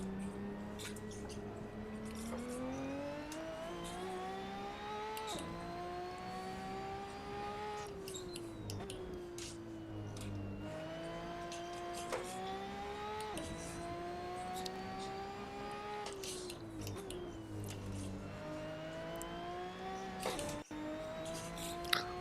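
A car engine in Assetto Corsa on Tokyo's Shutoko expressway whines and revs continuously, pitch rising and dropping repeatedly as gears shift, with no one speaking.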